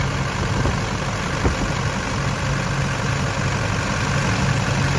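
A Duramax LLY diesel engine idles with a rough, uneven beat from a misfiring cylinder, a steady low rumble running alone throughout, up close and fairly loud.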